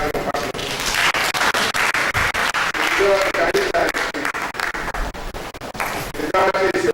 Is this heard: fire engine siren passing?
no